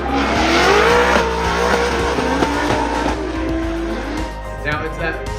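Drift cars at a drifting event, with engines roaring and tires squealing as they slide at angle. The car noise is loud and continuous, and a commentator's voice runs over it.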